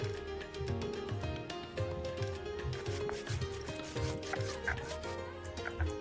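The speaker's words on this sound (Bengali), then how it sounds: "আমরা মশলাটা বেটে নিই আমরা মশলার জন্য ব্যবহার করছি শুকনো লঙ্কা এবং কাঁচা লঙ্কা অল্প করে জিরা" Spice paste of dried red chili, green chili and cumin being ground by hand: continuous close rhythmic rubbing and scraping strokes, with no talking.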